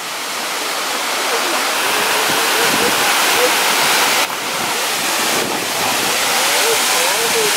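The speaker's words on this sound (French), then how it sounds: "Et là on arrive aux grandes chutes." Large waterfall roaring as a steady, loud, broadband rush of falling water, continuous throughout with wind buffeting the microphone.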